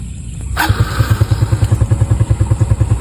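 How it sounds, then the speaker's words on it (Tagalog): A motorcycle being started, a brief sharp crank followed by a loud, close, evenly thumping idle with regular rhythmic pulses and a light mechanical clatter, no speech. "meron po akong binebentang motor"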